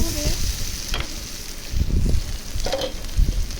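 Okra fries in a pan on a stove, a constant sizzle broken by clattering stirs and scrapes of a spatula at close range.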